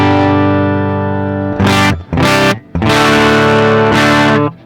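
Electric guitar through a Line 6 POD Go Plexi amp model with no cabinet, giving a harsh, fizzy, unfiltered tone that rings out in sustained chords, cut by a few short choppy breaks.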